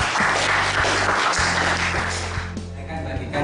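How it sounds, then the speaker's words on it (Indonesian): A high school mathematics class applauds a student group, with dense, steady clapping from many hands filling the room and a loud hum underneath. "Tepuk tangan untuk kelompok 2."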